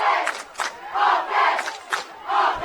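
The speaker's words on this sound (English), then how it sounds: "Crowd chanting offense here." A college football crowd at a Dakota Wesleyan versus Doane game chants rhythmically, several rising and falling group shouts in a repeating two-beat pattern, loud and somewhat distant across the stands.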